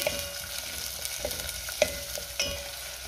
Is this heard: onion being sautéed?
yes